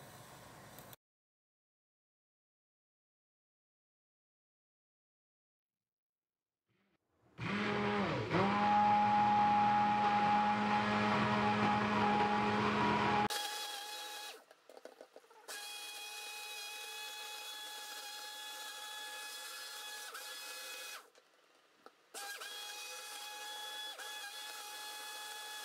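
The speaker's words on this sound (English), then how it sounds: "Just to speed up the acceleration process, we need the hand mix tool." Hand mixer whirring as it blends a water gel base, a loud steady motor drone that starts after a silent stretch, drops briefly, then resumes with a slightly different pitch and runs on alone.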